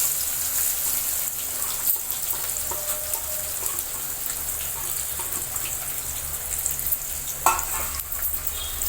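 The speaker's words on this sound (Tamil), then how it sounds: "சால்னாக்கு வெங்காயம் நல்லா சுருள வதங்கணும்." Sliced onions sauté in a pan for a roadside-style salna, with a steady close sizzle and frequent stirring scrapes. The frying holds alone without talk, and one sharper clatter comes near the end.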